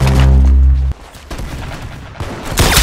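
A loud burst of gunfire from an M40 rifle in a video game rings out right at the start, then fades into quieter game ambience before a rising roar of further noise at the end.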